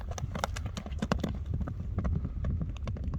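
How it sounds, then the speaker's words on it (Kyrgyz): Hooves of a horse clip-clop in a quick, driving rhythm as it gallops in a straight line, close and fairly loud, with faint voices in the background. "Бир чуркасын көрбөйлүбү Чыңгыз? Чуркатып койчу"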